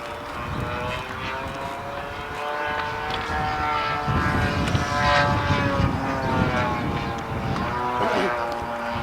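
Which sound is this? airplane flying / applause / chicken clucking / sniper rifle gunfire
airplane flying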